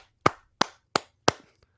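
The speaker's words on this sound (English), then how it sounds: "I'll give you a clap." Four sharp hand claps land close and crisp in an even, steady rhythm, each one quickly dying away into a quiet room.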